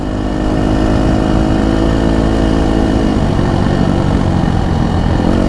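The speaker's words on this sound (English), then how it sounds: "these race bikes, the way they come from factory, just the right amount of noise" A Husqvarna FC250 race bike engine runs steadily and loudly, holding a continuous high drone with a dense low rumble throughout, close and unbroken with no talk over it.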